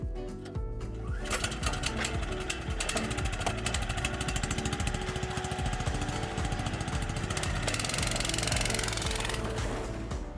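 A motor sled with an experimental injection engine runs steadily close by, a loud continuous buzzing drone with rapid rattling pulses that holds without pause throughout, no talk over it.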